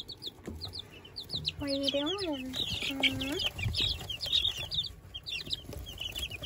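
Ameraucana hens in a homestead coop bedded with pine shavings give a few soft, close clucks and drawn-out calls, with bright chirps scattered throughout; a person speaks briefly over them.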